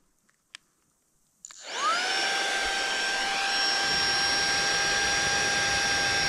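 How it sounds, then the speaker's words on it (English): A small AUXITO portable vacuum cleaner at a winter campsite clicks on and spins up to a steady, loud whine that holds unbroken after a few faint taps. "AUXITO vacuum cleaner."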